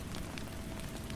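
Rain patters steadily on a canvas overhead in a faint, continuous wash with soft scattered drops, heard alone with no voices.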